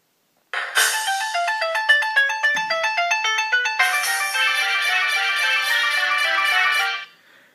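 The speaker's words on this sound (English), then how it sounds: "Ringtones. This one is one of my favorites." A BlackBerry 8830 phone plays a bright electronic ringtone. A quick run of stepped melodic notes gives way to a sustained chiming phrase, loud and clean against silence, then cuts off.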